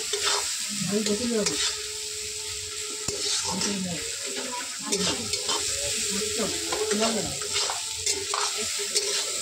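Onions sizzle steadily in hot oil while being stirred for beresta, with the spoon scraping the pan in regular, close strokes over a constant bright hiss.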